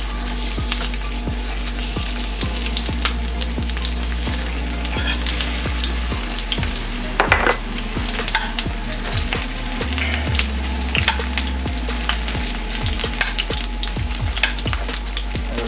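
Onion frying in a pot for Jamaican stew chicken, a loud dense sizzle with frequent small crackles and pops and a few spoon scrapes, close and steady over a low hum.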